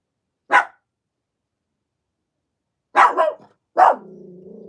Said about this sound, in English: why are you barking at 12 o'clock in the night?